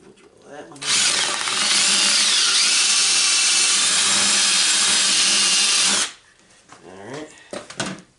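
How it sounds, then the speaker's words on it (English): A power drill runs steadily and loudly for about five seconds, then stops, followed by faint clattering and movement. "We'll drill that one."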